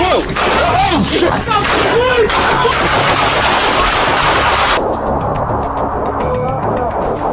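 Rapid AR-type rifle gunfire aimed at police, a dense, loud crackle of shots at the start that continues under shouting voices and chaotic noise, then drops to a quieter scene.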